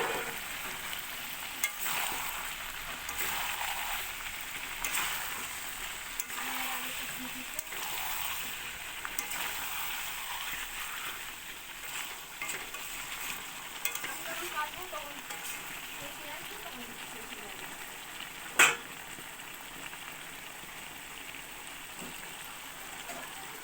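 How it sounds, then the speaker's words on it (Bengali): Chicken and potatoes sautéing in oil in a pan, a continuous close sizzle with occasional stirring scrapes and one sharp clink, steady and moderately loud throughout. "আলুগুলো দিয়ে দিচ্ছি, কষে আবার আলুগুলো তুলে দেবো।"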